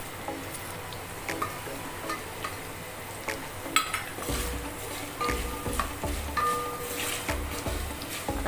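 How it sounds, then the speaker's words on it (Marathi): Curry leaves frying in hot oil for a flattened-rice chivda snack, a steady close sizzle with scattered crackles and pops, a few metallic stirring clinks and scrapes against the pan. "आता कढीपत्ता चांगलं शेकू दे म्हणजे चांगलं तळून होऊ दे तेलामध्ये"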